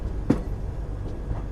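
Seven Hills SF Express on a single-line track near Tirupati, a brief, steady rumble of the moving train with one sharp clack of the wheels early on.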